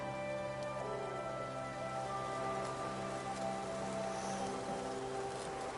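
Rain falls steadily in the video game Infinity Nikki, a constant, even patter of drops on surfaces with faint tonal game ambience underneath, with no speech.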